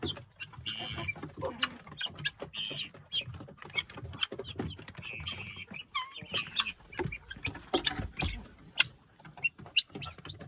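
Five chickens cluck and scratch around close by in a garden in a busy, irregular chorus, with soft rustling and occasional louder squawks.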